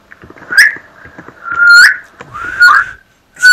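A person whistles nearby in short, wavering, sliding notes, three or four breathy attempts with brief pauses between them.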